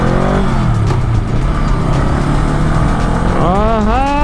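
A Honda Rebel 500 motorcycle pulls away and accelerates toward about 60 km/h, its engine note droning steadily and close, with pitch shifts as it gains speed and a rising sweep near the end; a voice speaks briefly over it.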